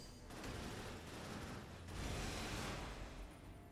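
Machine gun fire in the Cryptark video game roars as a dense, continuous rattling barrage with mechanical clatter, loud and steady throughout.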